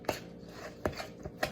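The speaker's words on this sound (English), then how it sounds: "gonna drop them by spoonfuls onto the silicone mat" Spoonfuls of no-bake cookie dough dropped onto a silicone mat make three soft, dull thumps spaced well apart, close and quiet, with faint scraping between them.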